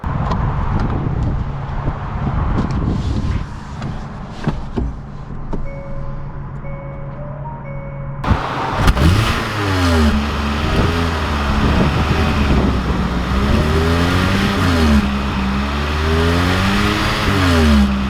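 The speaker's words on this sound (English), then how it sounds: "we are going to take this out and see how it drives now" A 2020 Hyundai Ioniq Blue hybrid car drives along, starting as a quiet cabin hum and then shifting to a louder, rising and falling engine and road drone.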